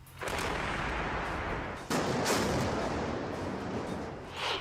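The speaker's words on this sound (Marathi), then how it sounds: "नियंत्रित स्फोटाद्वारे पूल पाडला जाणार" A controlled explosion using emulsion explosives brings down an old road bridge at Chandni Chowk in Pune, heard as a sudden loud blast followed by a sustained roaring rumble and a second burst of crackling detonation.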